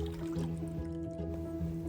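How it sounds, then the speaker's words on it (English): Chicken stock pours into a soup base for a vegetarian Tom Yum, a continuous close liquid gurgle and trickle with faint sloshing and no voices. "and I am mixing that with chicken stock"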